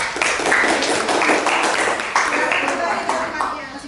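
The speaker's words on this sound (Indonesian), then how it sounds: "Kasih tepuk tangan dulu untuk kelompok 3" A classroom of students claps for a presenting group, a burst of brisk, close hand clapping with some rhythmic unison beats, lasting a few seconds and softening toward the end.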